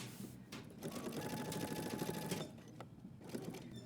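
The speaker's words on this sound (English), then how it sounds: "I'm going to stop and backstitch at my dot," A sewing machine runs steadily while stitching a seam on track trousers sewn from a Simplicity pattern, with a brief pause and restart near the end for backstitching; close and continuous, with no talking.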